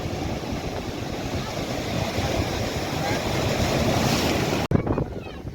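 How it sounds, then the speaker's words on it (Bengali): Rough high-tide waves pound the shore at Digha beach, surging right up to the rocks in a loud, continuous roar with wind noise on the microphone, cut off briefly near the end. "দেখতে পাচ্ছ সমুদ্রের ঢেউ কিরকম একদম পাথরের কাছাকাছি চলে আসছে"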